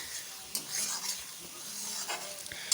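Spiced fish curry paste of salt, turmeric and chili powder frying in oil in a wok, a soft steady sizzle with occasional scraping stirs, close and fairly quiet.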